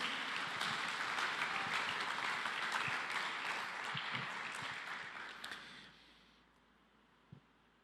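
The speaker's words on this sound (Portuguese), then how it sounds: "Aplauda o nome de Jesus." A church congregation applauds together in a sustained, dense wash of clapping that thins and fades out toward the end, leaving near silence broken by one stray clap.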